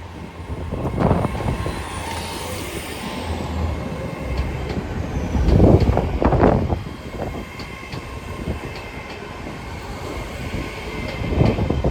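A Class 802 TransPennine Express train passes at close range at Newcastle, a steady roar of wheels on rails with rhythmic clatter swelling and fading over several seconds.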